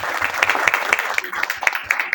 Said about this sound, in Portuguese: Então vamos dar uma salva de palmas para as mães.